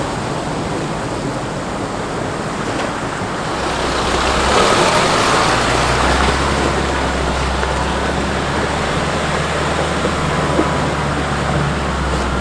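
A 4WD vehicle rolls along a creek-side track in a state forest, giving a constant broadband rumble of engine and tyres. It swells louder and deeper partway through, then holds steady.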